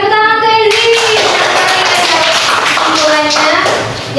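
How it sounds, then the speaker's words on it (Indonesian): A primary school class claps for a pupil named Yanti during a lesson, a dense burst of hand clapping that starts suddenly and carries on steadily, with the teacher's voice heard at the start and again under the applause. "tepuk tangan untuk Yanti"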